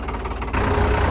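A tractor engine on a steep mountain road in Ladakh rumbles nearby, idling low and then swelling abruptly into a louder, heavier drone about halfway through.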